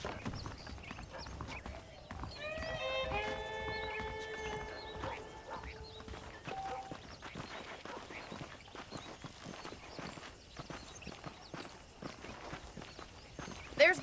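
Saddled horses walk in the Western video game Red Dead Redemption, a steady clip-clop of hooves with a brief whinny early on, over quiet ambient sound.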